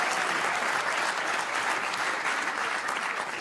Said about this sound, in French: Vous pouvez plus l'applaudir, ce que je vous dis.